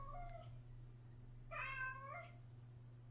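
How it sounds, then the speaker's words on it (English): A house cat meows twice, a brief faint call followed by a longer, clearer meow, over a steady low hum in a quiet room. "that's my cat"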